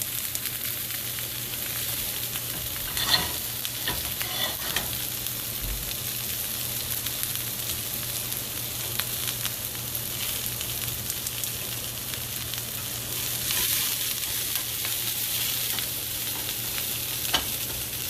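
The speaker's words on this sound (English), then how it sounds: "while this is sauteing" Food sautés in a pan while salmon cakes are being made, giving a steady close sizzle and crackle throughout with occasional stirring scrapes and no talking.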